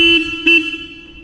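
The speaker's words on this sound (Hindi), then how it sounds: "इसका हॉर्न भाई इतना लाउड कैसे हो सकता है भाई?" A Royal Enfield Hunter 350 motorcycle horn sounds in two loud, close blasts, a longer honk then a short one, with only faint background noise.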